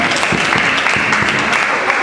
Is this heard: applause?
yes